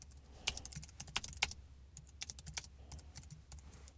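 Code is typed on a computer keyboard in quick, irregular runs of light clicking keystrokes, fairly faint and close, with no speech.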